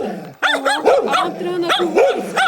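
A dog barks repeatedly near a village house in the evening, a series of loud, close, sharp barks and yips in quick succession, with a voice heard among them.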